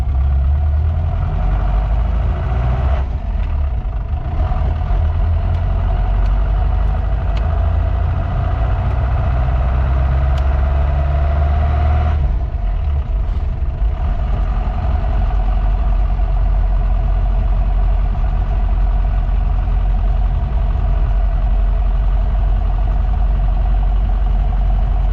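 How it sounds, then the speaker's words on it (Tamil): A 1984 Hindustan Motors Ambassador car's engine hums steadily while driving at about 40 km/h, a continuous low rumble heard from inside the cabin with no talk. "நம்ம இன்ஜின் வந்து ரொம்ப ஸ்மூத்தாக இருக்குது."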